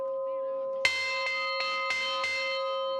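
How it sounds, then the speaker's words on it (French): Parishioners ring a church bell set up outdoors after mass, giving one loud clang followed by four evenly spaced strikes that leave a long, sustained metallic hum. "À la sortie de la messe, les paroissiens sonnent la cloche posée à l'extérieur."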